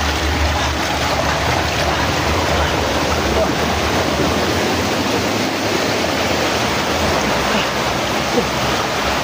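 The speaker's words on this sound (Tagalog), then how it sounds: "Kaya malakas naman ang tubig." Strong rushing water roars loud and close, a dense, unbroken wash of noise that barely varies across the whole stretch.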